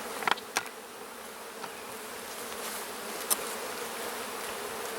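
Steady, dense honey bee buzzing from a massive hive being split fills the whole clip at an even level, with a few brief louder flickers as individual bees pass close by.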